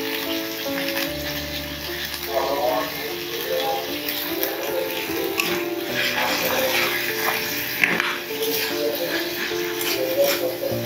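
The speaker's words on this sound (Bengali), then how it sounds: "একটু ভাজা ভাজা করে নেবো।" Shredded cabbage with coriander leaves fries in a pan in a village kitchen, a steady soft sizzle running throughout with occasional stirring scrapes and light rattles, while someone talks in the background.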